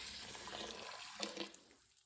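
Water pouring into an Instant Pot electric pressure cooker, a brief soft splashing trickle, quiet and close, with no talk over it.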